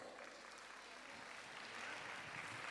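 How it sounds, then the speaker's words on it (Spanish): An outdoor festival audience applauds a municipal dance troupe as it is welcomed on stage; a brief, steady wash of distant clapping, fairly faint and even throughout. "Que se oigan esos aplausos"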